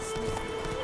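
Roach, a horse in The Witcher 3, clip-clops in a steady rhythm of hoof falls at moderate loudness, over a constant ambient hum with no talk.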